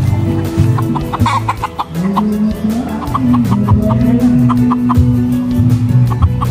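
Many chickens cluck continuously nearby, short repeated calls overlapping against a steady background rumble.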